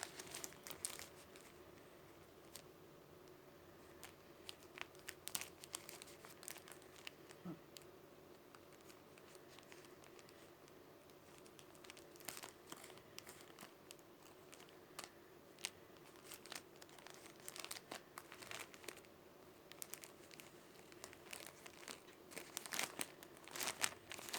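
Cargo parcel package being opened by hand, with steady crinkling, rustling and tearing of plastic and paper wrapping, close and fairly quiet, scattered sharper crackles throughout and a voice speaking briefly.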